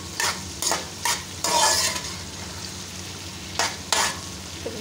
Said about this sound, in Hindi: प्याज को भिंडी का फ्राई करना है, अब प्याज को भून के